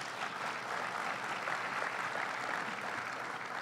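Audience applause at a government press event announcing new gates at LaGuardia Airport: a steady, even wash of many hands clapping from a crowd, sustained throughout at moderate distance with no talking.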